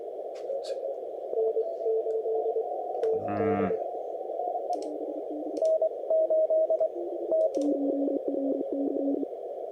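Morse code CW stations call on the 10 meter amateur radio band, several overlapping tones keying at different pitches, with a burst of static and a short voice fragment partway through.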